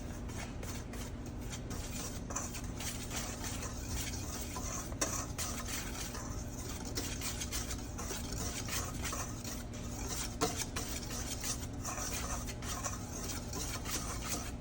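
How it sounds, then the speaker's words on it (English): A whisk stirs dry pumpkin bread ingredients, including flour, cinnamon and nutmeg, in a bowl, giving a continuous soft scraping and ticking against the bowl at a steady, quiet level. "Now we're going to whisk all of these ingredients together until they're well combined."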